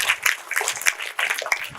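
Group of participants clapping during a yoga session; a brief, close patter of overlapping hand claps lasting about two seconds, with no talk.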